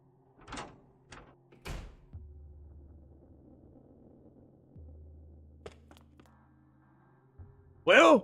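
An emergency exit door in the game Chaos;Child clicks and thuds as it opens, with a few sharp knocks followed by a low sustained hum, and a brief voice near the end.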